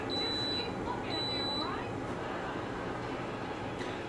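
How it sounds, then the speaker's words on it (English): A black Drew Barrymore Beautiful 1.7-litre one-touch electric kettle gives short, high electronic beeps as it finishes, rising over a dense, steady boiling rumble. "I hope you heard the 3 little beeps, because the 3 little beeps means that it is done"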